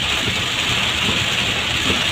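Heavy rain pouring steadily on a rural road, a dense constant hiss with no breaks, loud and close, no voices.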